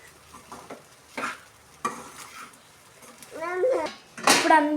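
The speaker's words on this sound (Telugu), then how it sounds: "క్యాప్ తీసుకున్న తర్వాతకి ఒకసారి మళ్ళీ టర్న్ చేసుకోవాలి." A spatula stirs egg rice around a pan, giving short scraping, sizzling bursts at irregular intervals, with a brief voice-like tone near the end.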